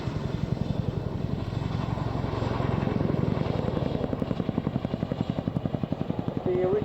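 A twin-engine RAF Chinook HC-2 helicopter flies a display at an airshow, its heavy rotor chop thudding in a fast steady rhythm, loud and sustained throughout.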